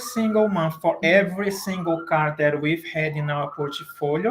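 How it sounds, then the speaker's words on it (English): A siren wailing outside, its rising and falling tone running faintly under steady close speech for the whole stretch. "I apologize for the siren here."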